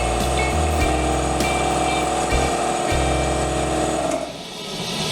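A homemade metal-melting furnace burner for lost wax casting roars steadily and loudly, a dense broadband rush with a deep throbbing low end that briefly dips and then drops off near the end.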